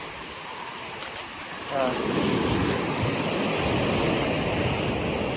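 Surf washing onto the wide, rock-strewn shore of Batu Kukumbung beach in Cianjur rises into a steady, broad roar after a quieter start. Someone speaks briefly near the beginning.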